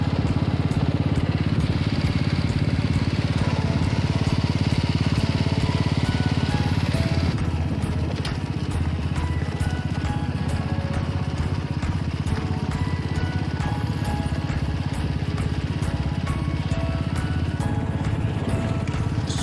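Steady motorcycle engine drone from a bike being ridden along a road on a ride toward a rhino eco area, loud and continuous, with the tone shifting slightly partway through and no talking.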